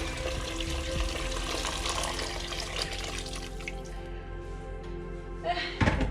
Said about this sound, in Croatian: Stavljamo litar i pol vode.